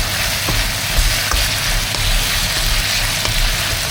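Chicken arroz caldo ingredients with a little oyster sauce frying in a pan, a loud, steady close sizzle with faint intermittent taps of stirring, no voices.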